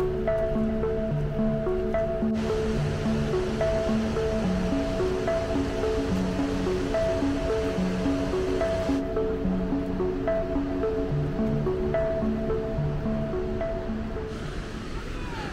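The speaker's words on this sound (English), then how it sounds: "just the other side where I'm standing now, there is a waterfall, and it is stunning" A waterfall near Hellesylt on Norway's Geirangerfjord gives a steady, unbroken rushing roar, with melodic tones sounding over it.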